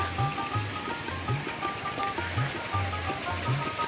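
Rotating spring-driven sprinkler with two side nozzles watering a tea garden in North Dinajpur, a steady spray hiss with a rhythmic low ticking as the arm turns and strikes, repeating about every half second to second, fairly close.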